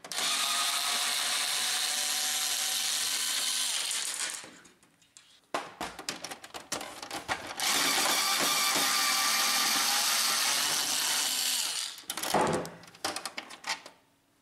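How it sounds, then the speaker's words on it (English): A power screwdriver removes screws from a Brother MFC-L2700 series laser printer, with a steady close whir for about four seconds, then clicks and handling, a second long whir, and a short final burst. "Remove these two screws."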